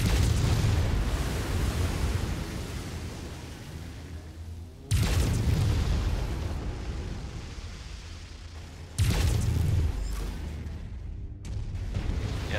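Heavy gunfire and explosive booms striking a player's mech in Mechwarrior 5, loud rumbling blasts landing in repeated bursts with long roaring decays, no talking.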